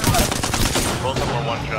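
Gunfire in Apex Legends: rapid, close bursts of automatic shots rattle loudly and densely, then ease off into scattered reports.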